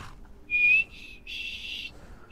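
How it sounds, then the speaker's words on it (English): Whistling from an NPC in the video game Skyrim: a short clear whistled tone followed by a longer sustained breathy whistle, close and moderately loud, with no talk over it. "Oh, this is how you learn to whistle."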